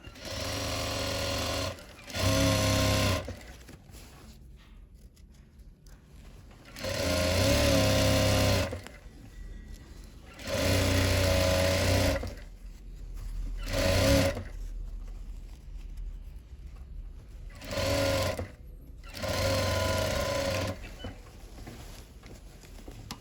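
A sewing machine stitching a silk pattupavadai skirt runs in about seven short bursts of rapid, steady needle chatter, each separated by a quiet pause.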